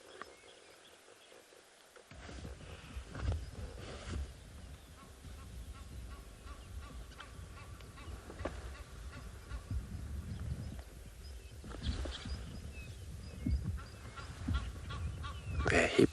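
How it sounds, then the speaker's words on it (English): Egyptian geese honk on a morning safari at a South African waterhole, faint, distant repeated calls scattered over steady outdoor background noise after a quiet start. "at least we got a sound of the Egyptian geese that are calling about"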